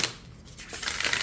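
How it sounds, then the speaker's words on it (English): An oracle card deck with rose-petal themed cards is riffle shuffled by hand, giving a brief, soft, fluttering rush of cards flicking together, close and quiet with no speech. "As always, I like to riffle shuffle decks."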